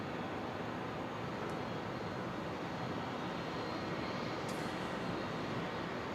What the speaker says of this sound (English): Pete, in plain sight, are the KC30s mostly empty when arriving like this?